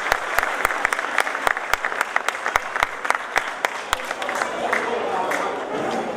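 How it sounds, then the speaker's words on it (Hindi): Audience at a Dr. Ambedkar Jayanti event applauds a performer, dense clapping with sharp individual claps over a steady crowd wash, fairly loud and continuous, easing slightly toward the end. "जोरदार तालियां प्रवीण जी के लिए।"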